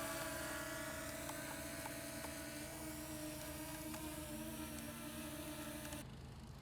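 Potensic Atom 2 drone hovering nearby, a steady high-pitched propeller whine with a constant buzzing drone, fairly loud and continuous without speech.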